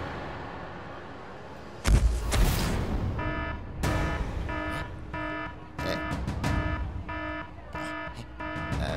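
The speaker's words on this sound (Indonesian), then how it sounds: "itu bunyi alarm." A loud crash comes first, then an alarm sounds in fast, evenly pulsed electronic beeps that repeat steadily over a noisy background, stopping and starting again in bursts.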